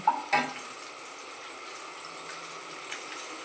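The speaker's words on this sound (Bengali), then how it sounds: "এই যে মাখন আর তেলের মিশ্রণটা গরম তেল এটা উপর দিয়ে ছড়িয়ে দিচ্ছি" Hot butter and oil mixture poured over steamed stuffed tomatoes with paneer and vegetables, giving a couple of sharp initial splashes followed by a soft, steady sizzle, close and fairly quiet.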